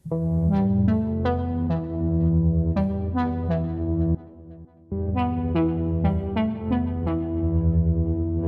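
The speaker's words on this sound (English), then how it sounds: "Or Leslie speaker on it." Repeating electric organ-like chords through a Leslie speaker effect, with a wobbling, swirling tone, a short dip in the middle, then the pattern resumes, loud and close.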